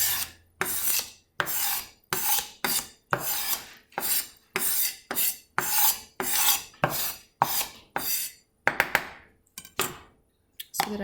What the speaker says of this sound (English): So that I could mix my meat.